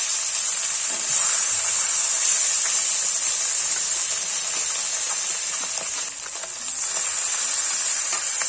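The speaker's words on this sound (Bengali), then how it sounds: "মাছগুলো সব ভাজা হয়ে গেছে।" Small pieces of fish sizzle steadily in hot oil in a kadai, giving a dense, continuous bright hiss with faint crackles that holds close and even throughout, with no one speaking.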